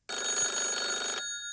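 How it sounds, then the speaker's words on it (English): A telephone bell rings loud and close in one sustained, bright, trilling burst lasting about a second, then cuts off, leaving a fading ring. "Sniff, your phone is ringing."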